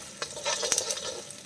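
Shallots and curry leaves fry in a pan for a karakuzhambu with okra, giving a steady sizzle broken by a few sharp stirring scrapes and crackles, close and moderately loud with no talking.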